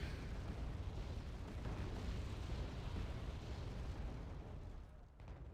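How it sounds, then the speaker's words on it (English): Continuous rumbling barrage of rocket explosions pounding a town in the real-time strategy game Wargame Red Dragon, a dense, loud wall of overlapping blasts that eases off slightly near the end. "And another rocket barrage onto the town."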